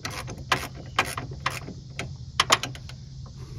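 A ratchet working on a control arm bolt under a 2004 Chevy Malibu gives short bursts of sharp clicking, close and moderately loud, with pauses between pulls.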